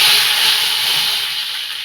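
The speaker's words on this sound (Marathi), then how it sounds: "आणि ह्याच्यामध्ये घालते मी कढीपत्ता." Curry leaves drop into hot tempering oil and give a loud, continuous hiss that fades slightly over a couple of seconds, alone and without speech.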